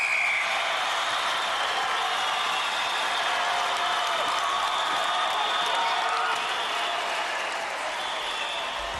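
UK Gladiators studio crowd from 1993 applauding and cheering without pause during a tilt-table tug-of-war event, a dense, loud wall of clapping that holds steady throughout.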